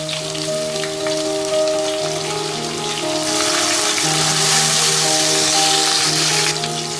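Onions and chopped tomatoes sizzle and fry in a pan for Hyderabadi mixed vegetable tahari, a steady dense crackle filling the whole stretch, growing slightly louder partway through, with faint steady tones running underneath.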